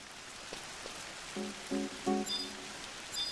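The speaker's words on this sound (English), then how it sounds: "Oh, it's raining here." Rain in the Final Fantasy XI Online video game falls as a soft, steady hiss of patter, faint and continuous, with a few brief tonal game sounds layered over it.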